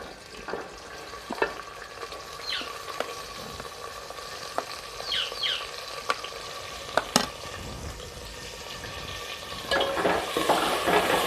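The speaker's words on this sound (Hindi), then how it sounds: "ऑयल हमारा गर्म हो गया, इसमें हम प्याज डालेंगे।" Onions sizzle in hot oil in a home kitchen, a soft continuous crackle broken by scattered louder pops and clinks of a spoon, with a brief rise of sizzling near the end.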